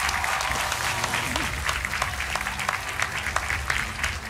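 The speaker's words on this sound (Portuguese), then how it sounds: "Um aplauso para o Manuel Bull" Studio audience applauding on a Portuguese RTP TV quiz show, a steady, dense wash of clapping that holds at even loudness throughout.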